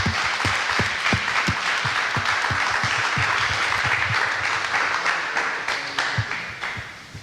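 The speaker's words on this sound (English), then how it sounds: "Let's give a round of applause for all of our panelists." Applause from an audience honoring panelists at a tribunal for families affected by state-sanctioned violence: dense, steady clapping that holds for several seconds before gradually thinning out, with individual claps standing out near the end.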